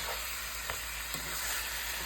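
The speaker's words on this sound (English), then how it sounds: "So it's sautéing." Jamaican curry goat meat browning in a pot gives a steady, close sizzle with faint crackles throughout, and no one speaks.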